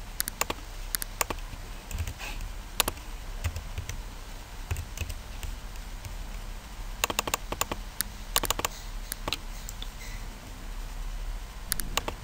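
Typing on a computer keyboard, quiet and close, with irregular bursts of clicking keystrokes and occasional pauses, no voices.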